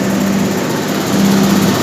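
A small two-stroke petrol engine on a thermal engineering lab test rig running steadily with a droning buzz, its pitch holding level and rising slightly toward the end.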